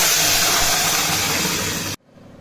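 Hot oil tempering for a Sankranti bharta sizzles loudly as ingredients go into the pan, a dense steady hiss that stops abruptly near the end.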